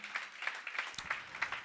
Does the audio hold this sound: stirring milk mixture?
no